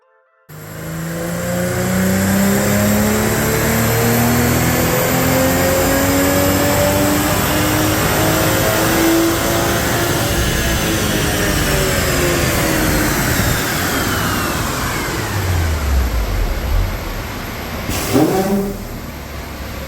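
A stock car on a chassis dyno runs baseline pulls on 91 octane California pump gas. The engine revs loud and close, climbing steadily in pitch through a long sustained pull, then drops off with a brief burst near the end. There is no talking.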